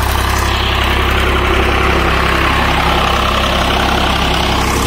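A 1999 Swaraj 735 FE tractor engine runs steadily at low RPM under heavy load, a loud, close, continuous low diesel rumble with a constant throb and no voices.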